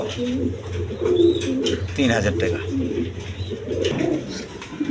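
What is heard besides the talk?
Giribaz high-flying pigeons cooing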